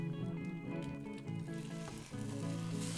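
Hash brown frying in plenty of ghee in a pan, a steady close sizzle running throughout with a brief dip near the end.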